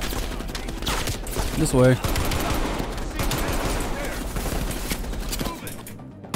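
Dense, continuous gunfire fills a Call of Duty Cold War campaign firefight, loud and sustained, while a voice speaks briefly over the shooting.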